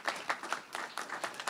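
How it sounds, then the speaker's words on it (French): A small group claps at a French-language public information session on permanent landscaping of a city square, sparse distinct claps with a loose uneven rhythm, fairly faint. "on peut les applaudir"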